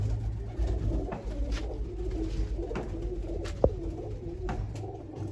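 Pigeons coo repeatedly in low, throaty phrases, close by, with a brief sharp knock partway through.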